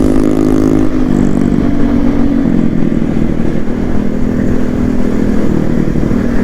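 A motorcycle fitted with a loud aftermarket silencer revs hard and close on a highway ride, producing a continuous rough, blaring engine roar that fills the whole stretch without a break.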